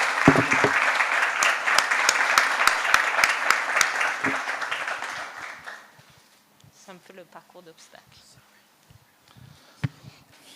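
Conference audience applauding in a Yemen culture and youth empowerment event, dense steady clapping for about six seconds that then stops, followed by quieter room sounds and a few faint voices.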